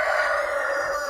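A Padovana rooster crows one sustained, loud, close call lasting about a second, heard alone with no voices.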